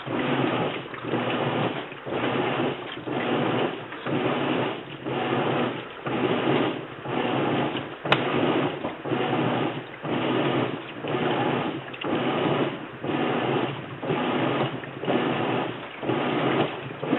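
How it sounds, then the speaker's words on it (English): A Whirlpool agitator washing machine churns through its wash cycle with a steady, rhythmic swish roughly every second, a sloshing agitator motion that repeats evenly throughout. "this washing machine, this is washing the wash"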